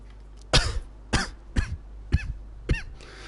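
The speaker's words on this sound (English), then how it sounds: "this cough is not going to get better" Five sharp, close coughs come at roughly half-second intervals, each a short harsh burst with no talking around them.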